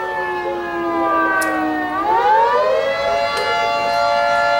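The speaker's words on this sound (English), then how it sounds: "this is the third time the sirens have gone off." A loud tornado siren wails continuously, its pitch dipping and then rising again in a long, slow sweep.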